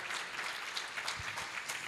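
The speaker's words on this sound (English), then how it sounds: "let's give him a round of applause" Audience clapping at an interactive art game event, a soft, fairly distant patter of applause that holds steady for a couple of seconds.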